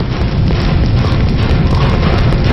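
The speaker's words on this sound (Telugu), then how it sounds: "ఎవరో చేతిలో బాంబు పెట్టేది?" A bomb goes off in a Telugu action movie scene, a loud, dense roaring blast that fills the whole moment with sustained rumbling noise and no speech over it.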